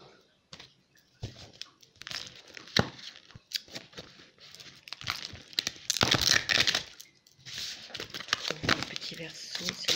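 Tarot cards are shuffled close by in rapid, papery riffles and flicks, in bursts that grow denser midway, while a voice talks over them.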